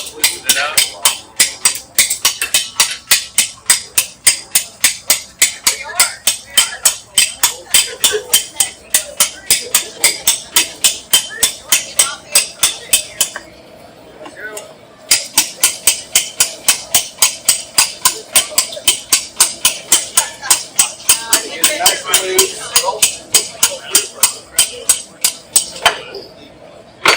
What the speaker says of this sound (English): I'm just going to take a chisel and rod and just kind of move the pattern back and forth to help loosen it up